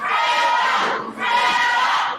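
A wrestling crowd at an indoor show roars and chants in two loud, sustained swells with a short dip between them, a dense wall of shouting and cheering.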